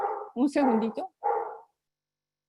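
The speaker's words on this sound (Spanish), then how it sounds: "es que están ladrando mis perros" Pet dogs bark at home during an online talk, a few short close barks mixed with a woman's speech before the sound cuts to silence.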